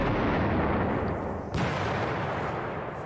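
Artillery fire in the Stalingrad '42 wargame rings out as a loud, sustained booming rumble with a fresh blast midway, dense and continuous with no voices.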